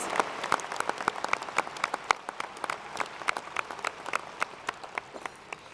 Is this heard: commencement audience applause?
yes